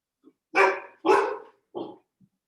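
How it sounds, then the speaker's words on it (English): A dog barks three times in quick succession, loud and close, with short sharp bursts and near silence between them. "Whose dog is barking?"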